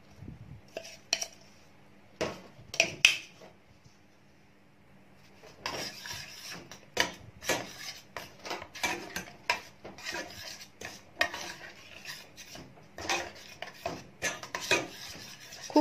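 Blended mint being stirred into rice ingredients, with a utensil scraping and tapping against a bowl in irregular bursts of clinks and rubs, quiet and close, with stretches of near silence between strokes.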